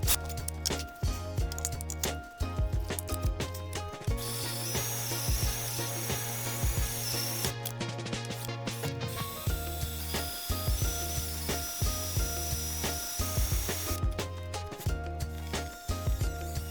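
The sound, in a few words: drilling out spot welds on BMW E30 front end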